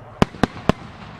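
Three sharp fireworks bursts at the Aizu fireworks festival crack out in quick succession, evenly spaced and loud, each with a short fading tail.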